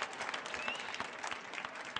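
An audience at a public dialogue on ending poverty breaks into applause, a dense close burst of many hands clapping that runs steadily for a couple of seconds.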